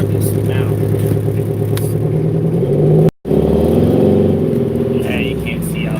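Truck engine revving hard through a 6-inch exhaust, a loud steady low rumble filling the whole stretch with a brief cut near the middle, while a person talks over it.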